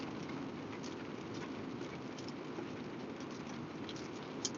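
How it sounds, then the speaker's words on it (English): Rain falls as a steady, even hiss that stays at the same level throughout, with no talking. "I love the rain."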